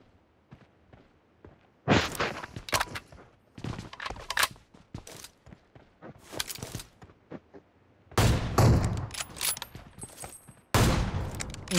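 Video game gunfire: bursts of automatic fire and single shots come in irregular clusters, sometimes close and loud, sometimes faint, with footsteps and other game effects between them.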